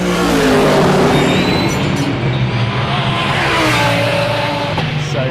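Fast cars roar past nearby, engines loud and revving continuously with rising and falling pitch as they speed by close at hand.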